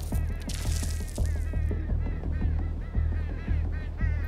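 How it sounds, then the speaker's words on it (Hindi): Crows flying overhead in the video game Hitman 2 give a rapid, rhythmic series of harsh caws, about two per second, loud and close over a low background hum. "ये कौवे कितने उड़ रहे हैं यहाँ पर"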